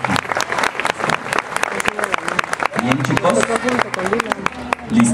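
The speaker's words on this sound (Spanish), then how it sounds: "Un fuerte aplauso a Preescolar 3." A crowd claps for the Preescolar 3 class at a school Father's and Mother's Day event, with steady applause mixed with chatter and voices close by.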